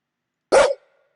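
A single sharp dog bark in the video game Circuit Lab, loud and close, cut off abruptly against silence.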